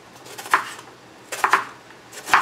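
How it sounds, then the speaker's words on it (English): A knife chops through an onion onto a board, three separate crisp thuds spaced about a second apart, close by and otherwise quiet. "So I start by just chopping them in half"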